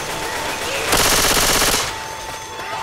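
Rapid automatic gunfire in the video game Left 4 Dead 2, a dense sustained burst of about one second standing out over steady game background noise.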